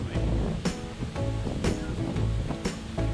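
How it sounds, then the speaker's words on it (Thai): Strong wind roaring on a mountainside at Khao Thewada campsite, a constant loud rushing with repeated gusty bursts buffeting the microphone. "แต่ว่าลมแรงมาก"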